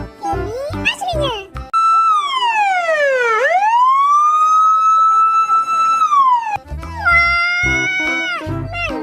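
A red-and-white toy fire engine's electronic siren wails in a long rising and falling sweep, loud and close, with a voice heard just before and after it.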